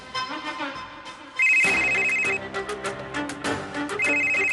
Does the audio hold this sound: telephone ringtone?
yes